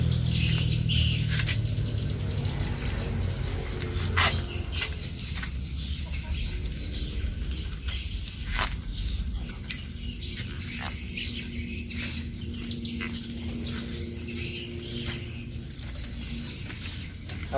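A black bird caught in a simple homemade trap cage flutters and flaps its wings against the enclosure in repeated rapid bursts of patter and scraping. The sound is close and continuous, with no talking.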